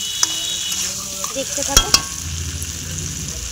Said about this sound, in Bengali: আর দিয়েছি কড়াইশুঁটি, টমেটো কুচানো, পেঁয়াজ কুচি, গোটা জিরে সব একসঙ্গে দিয়ে এটা ভাজা হচ্ছে